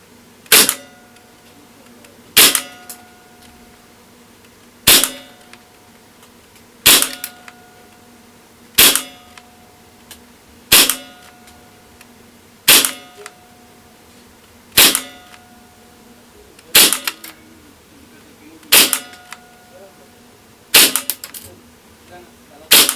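A KWA KMP9 gas blowback airsoft submachine gun fired outdoors in single shots, each a sharp loud crack with a brief metallic ring, spaced about two seconds apart across roughly a dozen shots, no talking.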